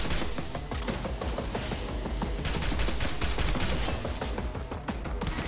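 Rapid gunfire from Shenlong pistols and an Onyx assault rifle rattles in a Call of Duty zombies game, a dense, loud and continuous stream of shots with no letup.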